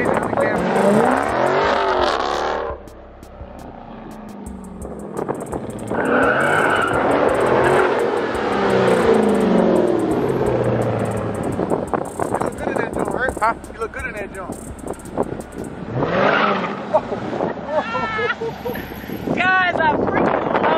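A car engine roars and revs as it passes by, rising and fading with wind buffeting the microphone; people talk in between passes.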